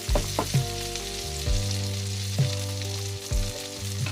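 Salmon fries in a pan with a steady close sizzle, broken by intermittent soft bumps, over a sustained tonal background.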